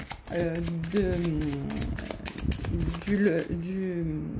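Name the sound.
shuffling Lenormand oracle cards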